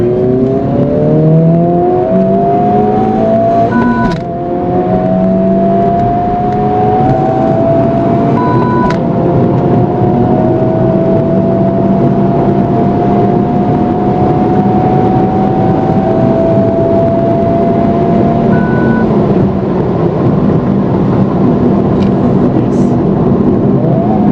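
A stock 2023 Honda Civic Type R (FL5) engine drones steadily at speed, rising in pitch through gear changes, with road and wind noise filling the background.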